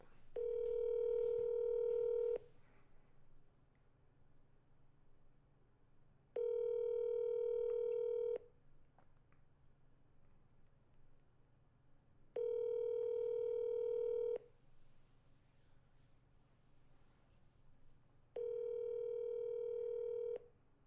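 A telephone call is being placed, with a ringback tone that sounds in four steady two-second bursts spaced several seconds apart over a quiet room hum.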